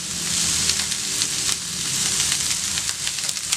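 Chopped vegetables with chilli and a pinch of salt sizzle steadily in a hot pan while cooking honey chicken, a continuous close frying hiss with faint stirring scrapes and no talking.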